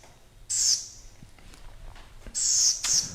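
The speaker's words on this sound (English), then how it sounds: "this bush tit is just a little bit more vocal than the other one" A bushtit gives two bursts of thin, high-pitched calls, the second a pair in quick succession, over a quiet outdoor background at a bird banding station.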